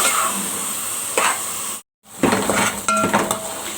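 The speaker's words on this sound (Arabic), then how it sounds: "هفضل اقلب كده بقى لغايه لما تحمر البصله" Chopped onions fry in a pan while a utensil stirs them, scraping and clinking against the metal at close range, with a brief break partway through and no talk over the sizzle.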